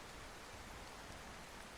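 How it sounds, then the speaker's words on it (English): Steady, even rain hiss from the storm-chasing video game Outbrk, falling under a shelf cloud, faint and unbroken with no voices. "I think this rain is actually just coming from the shelf just north of us"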